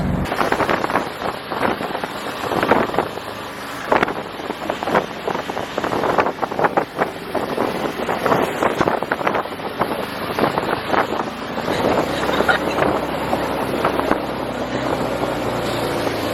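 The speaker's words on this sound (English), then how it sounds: "we ended up riding a tuk-tuk, which was so much fun even though he did not even press the brakes once" A fast tuk-tuk ride on a very cold day brings a steady roar of wind buffeting the microphone, with engine rumble and gusty swells running through the whole ride.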